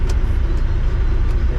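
A cabover semi truck's diesel engine runs steadily at idle, a deep continuous rumble close by with no talking.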